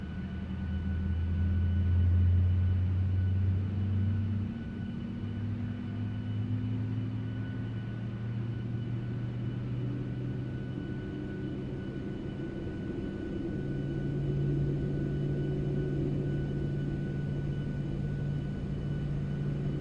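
A PMDG 737-800 engine spooling up during start in Microsoft Flight Simulator 2024: a steady low droning rumble with rising and shifting tonal hums, continuous and moderately loud, with no talking.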